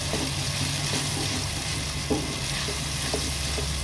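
Large tomato pieces sizzle in oil with ginger and garlic for a jeera pulao, a dense, even frying hiss with faint stirring scrapes, no voices.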